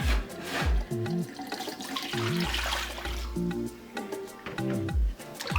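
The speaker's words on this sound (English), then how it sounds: "You rinse it again." Water splashes and sloshes as food for fresh fufu is rinsed a second time in a basin, with repeated swishing surges and gurgles close by, each bout followed by brief drips.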